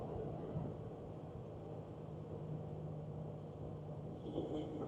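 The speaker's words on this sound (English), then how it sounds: "We'll go for a downshift." A 1988 Toyota Land Cruiser cruises at about 60 mph while the driver downshifts. The engine and road noise form a steady, low, muffled rumble from inside the cab, with no talking.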